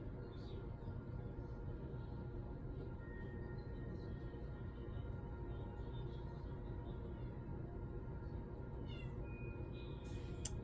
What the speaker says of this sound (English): my cat, Lily, just meowed